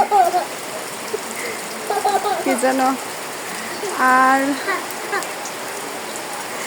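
Rain falls steadily on a village home in Natore town, a constant hiss of drops throughout while a person speaks briefly over it.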